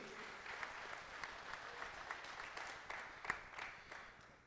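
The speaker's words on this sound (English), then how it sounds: "please welcome, big applause to Irina Shetnik." Spectators applaud for an athlete being introduced at a para shooting final, the 50m rifle prone SH1 event; a moderate, fairly distant patter of clapping runs throughout, with a few sharper claps standing out near the end.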